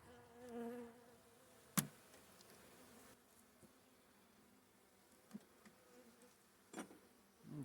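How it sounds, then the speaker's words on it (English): Honey bees around spring hives buzz faintly near the camera with a thin, wavering drone, while a few sharp clicks stand out as bees bounce off the lens. "We got a couple bees that are out running around aggravating me"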